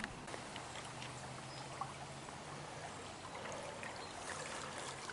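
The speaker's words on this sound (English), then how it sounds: "So right down here, it should be the stream." A stream flows near a covered bridge in spring, a steady close rush and trickle of water running alone throughout.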